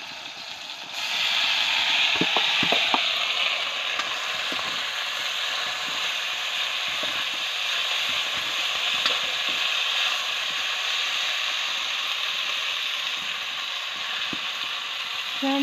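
Mashed potatoes frying in a pan while being stirred, a steady sizzle broken by scraping, ratchet-like clicks of the spoon against the pan, heard close up with no voices.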